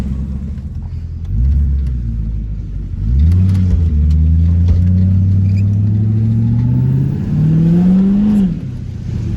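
A Ford Mustang accelerates from inside the cabin, its engine note rising steadily, dropping at a gear change, then climbing again before easing off, loud and close with no talking.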